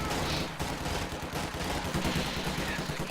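Rifle squad volley fire in a strategy video game: dense, continuous crackling gunfire with overlapping shots, loud and sustained throughout without any talking.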